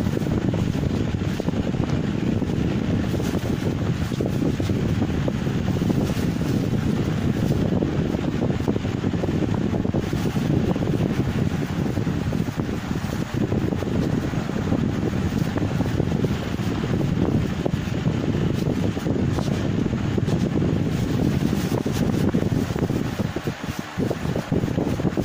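A solar-powered high-speed table fan runs steadily and close by with a constant broadband whoosh of moving air, filling the entire stretch at an even level with no talking.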